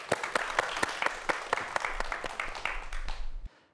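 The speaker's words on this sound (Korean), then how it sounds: "예, 박수 부탁드리겠습니다." A Korean TV studio audience applauds to welcome a speaker on a cybersecurity talk program, with close, crisp claps in a brisk, uneven rhythm that stop abruptly near the end.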